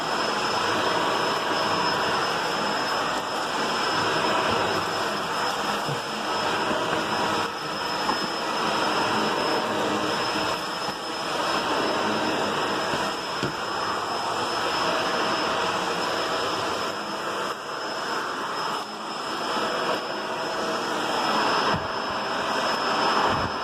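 A Shark DuoClean Power Lift Away Speed vacuum cleaner runs steadily with a loud continuous motor whine and airflow roar, close by, with slight shifts as it moves over the floor.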